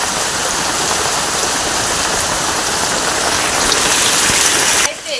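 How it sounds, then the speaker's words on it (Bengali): Heavy rain pours down in a dense, loud, unbroken roar close by, easing abruptly right at the end. "এমন বৃষ্টি দিচ্ছে তলিয়ে দিয়ে চলে যাবে এবার"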